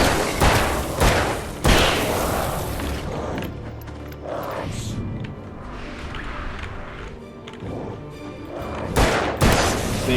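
Gunshots and heavy thuds in the Alan Wake video game, with loud broadband bursts at the start and near the end amid mechanical game noise, no speech heard.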